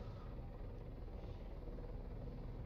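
A helicopter in the video game ARMA 3 runs its engine at full throttle, giving a steady, loud, dense rumbling drone that holds unchanged throughout, with no voices.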